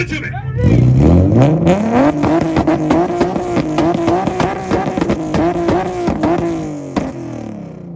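Infiniti engine revs hard in a two-step rev battle at a 2022 North Carolina car meet, climbing to a loud sustained howl with crackling pops and exhaust bangs, then dropping away, while voices carry faintly underneath.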